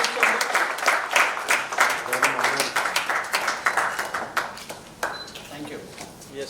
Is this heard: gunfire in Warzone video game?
no